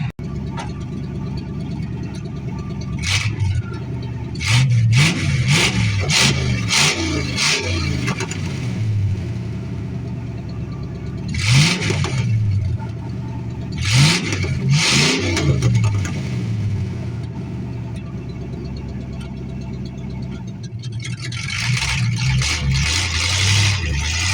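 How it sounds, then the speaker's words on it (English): A classic car's engine revving through its exhaust in spring, deep rumbling bursts rising and falling in several rough surges over an idle, loud and close with no talking. "I'm going to try to get a little exhaust note clip of it anyway"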